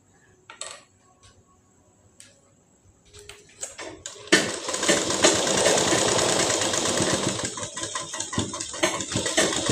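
Double-stitching an Afghani salwar on a sewing machine: a few scattered clicks and handling taps, then a close, continuous motor hum with rapid needle rattle running through the second half.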